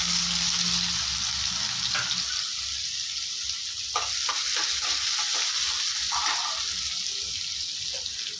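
Steady sizzling of chopped onion frying in a pan until golden, with occasional stirring scrapes and clicks, close and continuous with no talking.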